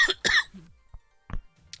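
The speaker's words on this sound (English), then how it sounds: "I know I keep coughing" A person coughs in several short, harsh bursts, close to the microphone, with brief pauses and a throat-clearing sound between them.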